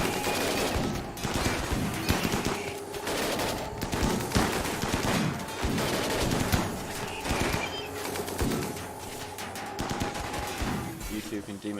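Dense gunfire in a Rimworld colony battle, with repeated rapid shots and bursts that continue without a break, loud and busy throughout, with a faint bird-like chirp mixed in.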